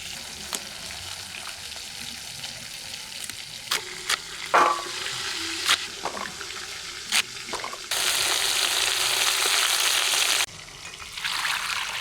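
Rohu fish frying in a pan gives a steady, close sizzle, broken by a few sharp clinks and bumps, with a louder burst of crackling in the middle stretch.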